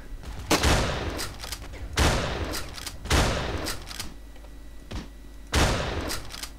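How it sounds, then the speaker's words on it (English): Shotgun blasts in the video game Ravenfield: four heavy, booming shots spaced a second or so apart, each with a sharp attack and a rumbling tail, loud and close with no talking over them. "Let's try to use the shotgun, just for like a lull and a half."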